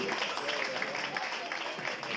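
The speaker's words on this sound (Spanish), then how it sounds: "Un aplauso para todas y todos que han tenido el valor de llegar." A crowd at a public gathering breaks into applause, a diffuse, fairly faint wash of many hands clapping that stays even throughout, with some voices mixed in.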